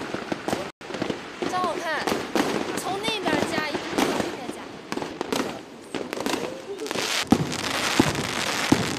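Firecrackers and fireworks set off for Tibetan New Year's Eve crackle and pop in a dense, continuous barrage. Voices talk and call out over the steady bursts.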